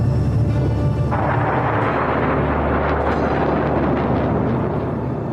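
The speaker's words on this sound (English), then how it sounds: "As American bombs exploded around him" American bombs explode over the Cambodian jungle, a continuous heavy rumbling roar of blasts that stays loud and dense throughout with no gaps.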